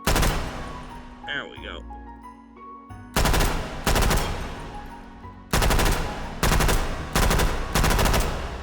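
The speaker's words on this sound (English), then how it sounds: "serious rise when we're firing at full auto" Full-auto gunfire from a weapon in the VR shooter H3VR: after a quiet stretch with a brief spoken remark, several loud bursts of rapid automatic fire hammer out, each lasting about half a second to a second.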